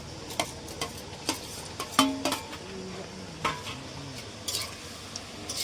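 Nimki dough fries in a kadai with a continuous soft sizzle, broken by sharp metallic taps and scrapes of stirring at irregular intervals.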